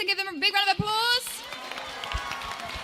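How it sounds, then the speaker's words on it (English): A school service assembly audience breaks into applause for the Gecko Inc. group right after a brief spoken voice, a broad rush of clapping that carries to the end. "give them a big round of applause"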